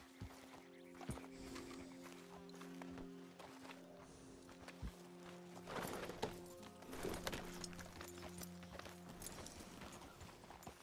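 Hooves clip-clop in an irregular rhythm from a glitching horse in a video game, under steady game ambience and music tones, with a denser flurry of steps in the middle.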